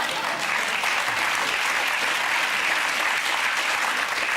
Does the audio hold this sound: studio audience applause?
yes